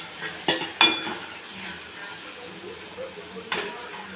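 Freshly grated coconut being stirred into onions softened in a frying pan for a fish and mango curry: a low, steady sizzle broken by a few sharp clinks and scrapes of a spoon against the pan, close, with no speech.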